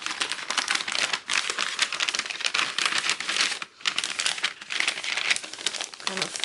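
Gift wrapping paper being creased and folded into pleats, with loud, close crinkling and crumpling that runs almost without pause and drops out for short moments, while someone talks over it.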